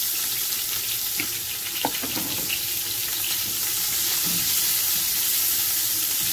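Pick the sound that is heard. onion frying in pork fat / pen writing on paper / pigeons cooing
onion frying in pork fat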